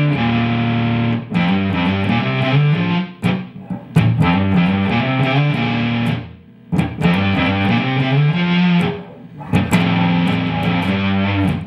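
Distorted electric guitar riff from a song, played loud and close in choppy phrases with short pauses between repeated runs of notes, no voice.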